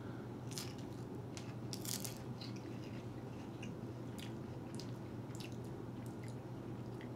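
Crunchy seaweed snack chewed close to the mic, with several sharp crisp bites and crackles early on fading into quieter, intermittent munching over a low background hum.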